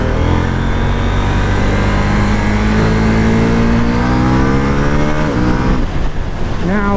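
A 2023 KTM 790 Duke motorcycle pulls hard on the highway, its engine note climbing steadily through the gears with a strong, continuous roar. Wind rush fills the background, and a pitch drop near the end marks a shift.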